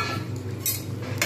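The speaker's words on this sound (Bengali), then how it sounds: "এবারে আমি এর মধ্যে দিয়ে দেবো আলু এবং পেঁপেগুলো।" Potatoes and papaya pieces tumble into a pan of Bengali mutton curry, giving a clattering, sizzling stir with a couple of metallic clinks near the end, close and moderately loud with no talk.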